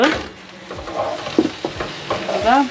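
Fennel and cumin seeds fry in a pan with eggplant, the close sizzle broken by scraping stirs and light clinks of a utensil against the pan.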